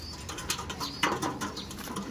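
Pigeons in a loft, with soft cooing and scattered wing flaps over a rustling, noisy background, fairly faint and close, with no voices.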